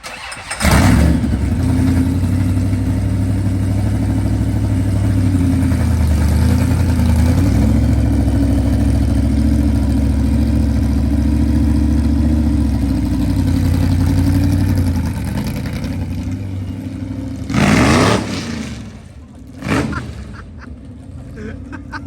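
A supercharged 1956 Chevy V8 rumbles loudly and steadily at idle for most of the stretch, then revs up in two sharp bursts near the end.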